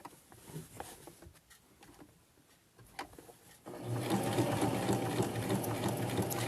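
A domestic sewing machine running steadily for close applique stitching on fabric, starting partway through after quieter handling of the material, then a loud continuous whirring hum.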